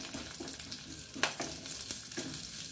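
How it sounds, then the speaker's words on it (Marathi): Cumin seeds and curry leaves crackle and sizzle in hot oil as a tempering for a Maharashtrian usal, a faint, steady frying hiss with a few sharper pops of stirring. "फोडणी देताना मग कसा आवाज येतो"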